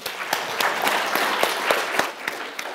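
A live science show audience gives a short, brisk round of clapping for a young volunteer coming onto the stage, with individual claps popping out of a dense patter.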